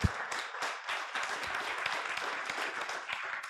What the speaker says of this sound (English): A round of applause for our speakers